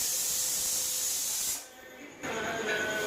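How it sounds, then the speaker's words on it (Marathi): Whole spices (coriander seed, bay leaf, cumin, cloves, cinnamon, caraway) roasting in ghee with coconut in a pan, a loud close hiss that dips briefly midway and then surges back. "मसाला भाजून घ्यायचा."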